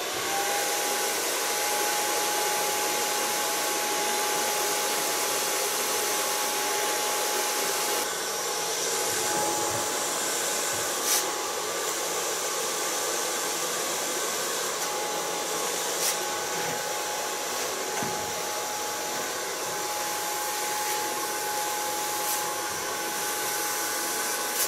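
A blow dryer runs continuously with a steady high whine and airy roar, holding close and loud throughout with slight shifts in pitch as it moves.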